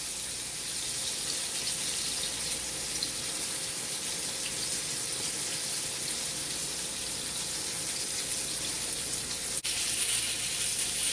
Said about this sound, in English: You're just basically searing the patty because it's going to cook in the slow cooker.